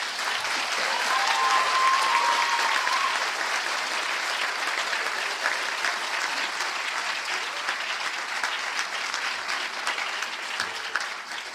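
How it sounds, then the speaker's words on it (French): Long, even applause from a large audience at a university graduation ceremony in Gatineau, many hands clapping in a dense wash that swells early and holds steady. "On peut les applaudir maintenant."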